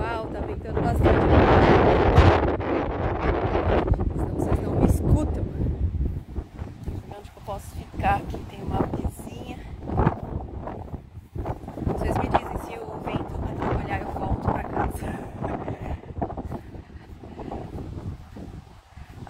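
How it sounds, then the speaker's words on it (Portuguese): Strong outdoor wind buffeting a microphone in heavy, rumbling gusts, loudest at the start and continuing underneath a person talking throughout. "Uau, tá ventando bastante."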